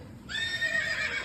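A horse gives a single high, quavering neigh, fairly close and clear over faint background rumble.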